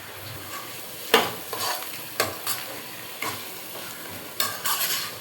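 Vegetable biryani masala being stirred and sautéed in an open pan, not a cooker, with soft sizzling frying underneath and a handful of scraping spoon strokes against the metal at irregular intervals.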